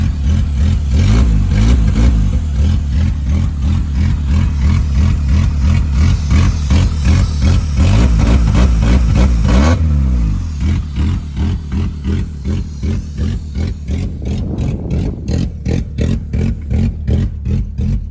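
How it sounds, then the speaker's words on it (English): Honda Accord engine given throttle after a valve adjustment, loud and close with a steady running drone that swells and drops as the revs change, then settles into a choppier, pulsing idle. "See if we can give it some throttle."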